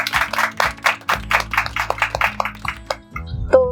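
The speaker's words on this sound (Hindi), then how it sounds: "तो एक बार तालियां हो जाए राजीव के लिए।" An audience applauds a candidate in an interview program, brisk separate hand claps over a steady music bed, close and moderately loud, ending in a bright chime.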